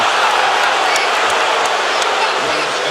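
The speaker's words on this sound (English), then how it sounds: "And the crowd not liking it." A basketball arena crowd murmurs and roars in broad sustained noise after a blocking foul call, with scattered whistles and shouts rising from the stands. Steady and loud, with no pauses.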